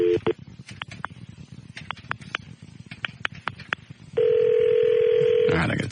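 A telephone being dialed on a radio talk show, with a run of short, sharp keypad tones in irregular rhythm followed by a steady dial tone that holds for about two seconds, with a voice speaking briefly.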